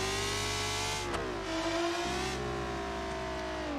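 A small, light car engine in a video game revs high toward 9,000 RPM, a loud, sustained buzzing whine that dips briefly and climbs again, with no talk over it.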